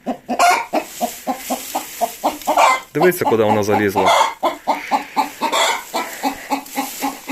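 A hen clucks in a short harmonic burst in a coop where hens lay eggs, while someone talks loudly over it, his voice dominating before and after.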